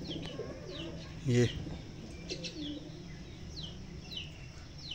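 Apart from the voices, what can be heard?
pigeons cooing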